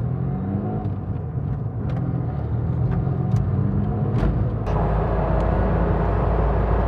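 Ford Fiesta sports car driven on the road, a steady low engine rumble and drone heard from inside the cabin, with a brief rise in engine noise partway through.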